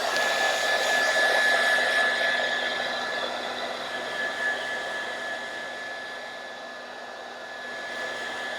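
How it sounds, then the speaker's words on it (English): A hair dryer blows steadily on a painted miniature sculpt, a loud continuous whooshing roar that eases slightly in level over several seconds, with no talk. "I'm just going to hit this again with a hairdryer"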